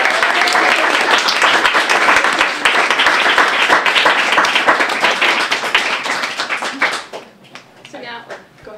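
An audience at a comics panel discussion applauds, with dense, sustained clapping that holds steady for several seconds and then thins out into scattered claps near the end.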